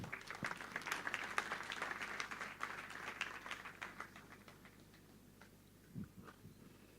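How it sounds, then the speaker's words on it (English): Applause from a crowd at a DevFest 2024 tech conference, moderately loud at first and gradually thinning out over several seconds, with a brief low thump near the end. "Please give them a round of applause."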